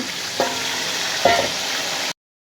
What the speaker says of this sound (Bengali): এখন আমি এটার মধ্যে জলপাইগুলো ঢেলে দিব।